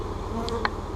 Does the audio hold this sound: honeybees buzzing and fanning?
yes